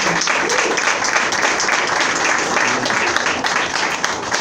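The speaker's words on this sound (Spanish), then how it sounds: "Fuerte aplauso para el Rey." A church congregation breaks into loud, steady applause during a sermon, a dense wash of many hands clapping at once with faint voices blended in.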